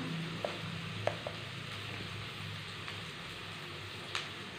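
Onions frying gently in a pan, a soft steady sizzle throughout with a few faint clicks of a utensil, no talking.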